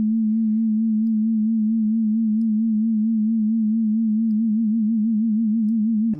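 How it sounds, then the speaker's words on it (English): A pure sine tone runs through an analog-style tape wobbler pitch effect, holding a steady low pitch with a gentle, regular vibrato wobble that grows slightly toward the end before cutting off. "I'll show you the basic sound on just a sine wave."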